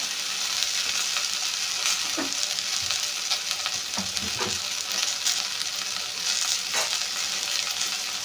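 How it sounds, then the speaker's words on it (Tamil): Vegetables for sambar sizzle and crackle as they are stirred in a single pot, a steady loud frying hiss broken by a few soft spoon scrapes, with no talking. "கொஞ்சம் அது பிடிக்காமல் பார்த்து கிளறி விட்டுக்கோங்க"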